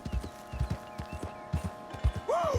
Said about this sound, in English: Look at that horse.